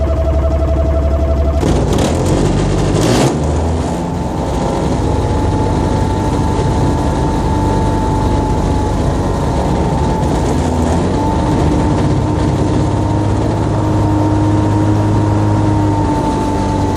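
An X-Air microlight engine runs steadily after a cold start, a loud continuous drone with a brief rev change near the start, close and unbroken, with no talk.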